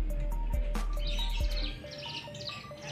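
A mountain tailorbird sings softly nearby, repeated thin high chirps in short phrases over a low background hum, quiet and without speech.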